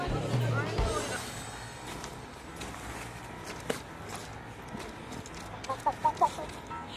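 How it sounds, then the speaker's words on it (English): A chicken clucks in a short run of loud, close, rapid calls near the end, in a crowded German city street with footsteps, traffic noise and people talking. "Angry chicken."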